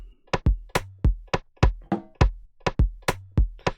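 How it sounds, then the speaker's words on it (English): Afrobeats drum pattern programmed in FL Studio from mykah's afro rave drum kit: punchy kicks, snappy claps and percussion hits in a bouncy syncopated groove, loud and dry with no voices. "And I added simple drums from mykah's drum kit."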